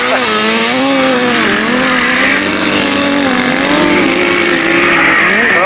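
Grasstrack sidecar racing outfits with a Yamaha engine screaming loudly and continuously at a 1990 meeting, revs rising and falling as the machines pass close by.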